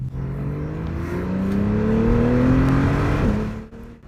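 A Porsche 911 with a PDK dual-clutch gearbox accelerates hard, its engine note climbing steadily through a loud, close run before a quick shift drop near the end and a brief easing off.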